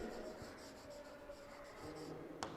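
Chalk or marker scratches and rubs across a board during a classroom lesson, a faint series of short strokes in a quiet room, ending with a sharp tap.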